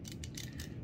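A breaker bar's ratcheting mechanism spins, giving a quick, faint run of close mechanical clicks with no talk.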